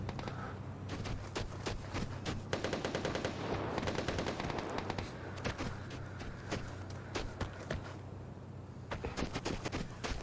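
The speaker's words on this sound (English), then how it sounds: "Those gunshots were from somewhere else." Gunfire in the video game Vigor sounds as rapid bursts of automatic shots mixed with scattered single cracks, continuing steadily throughout, muffled and moderately distant.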